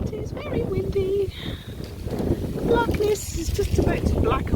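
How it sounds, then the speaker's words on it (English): Strong wind buffets the microphone in a steady roar at Ham Wall and Shapwick Heath wetland reserves in Somerset, while a person talks throughout. "It is very windy."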